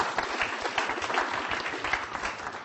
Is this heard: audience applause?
yes